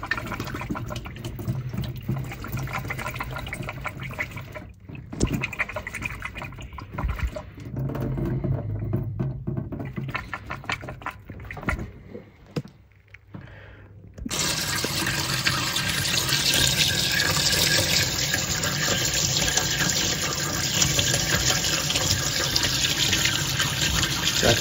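Water drains and splashes out of a plumbing fitting after it is shaken. A steady running flow grows louder and fuller about halfway through, then pours continuously and up close.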